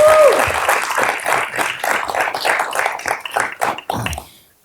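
Audience applause after a talk at a UCLA Anderson School of Management event, dense clapping from a crowded room that holds steady, then thins out and fades away in the final second.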